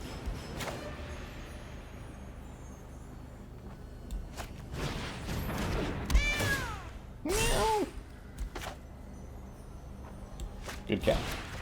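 A cat meows several times, with rising and falling pitched calls, heard close among background voices and game sounds during an MTG Arena Pauper match.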